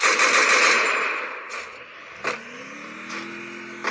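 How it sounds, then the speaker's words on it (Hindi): Gunfire from the mobile battle royale game BGMI, played on a Poco F7 phone: a loud, sustained automatic burst at first, then fading into a few sharp single shots spaced apart, with no talking. "मैं बस गोलियां चलाया जा रहा था भाई"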